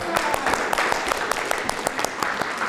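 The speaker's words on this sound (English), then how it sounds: "let's give her a clap" Audience clapping for a volunteer at a talk for high school teachers, a steady crowd applause with sharper individual claps scattered through it, lasting the whole stretch, with faint voices mixed in.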